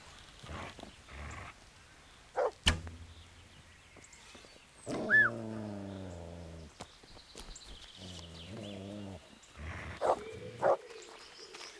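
A dog in the medieval video game Kingdom Come: Deliverance gives a few short barks, then drawn-out whining, howling yelps, fairly close and at moderate volume, with light game ambience and thumps around them.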